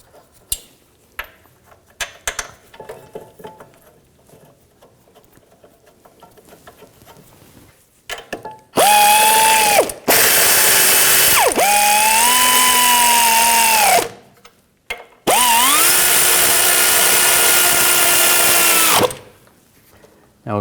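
Ratchet driving the rear brake caliper bracket bolts on a 2006-2010 BMW 550i: two long, loud whirring bursts with shifting pitch, each a few seconds long, after quieter handling clatter.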